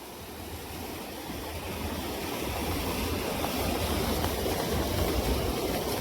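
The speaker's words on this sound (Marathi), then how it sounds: "नदी वळण घेते आणि अशी खाली वाहत जाते" River water flowing in flood on the Girna, a broad, continuous rushing roar that stays loud and steady throughout with no voices.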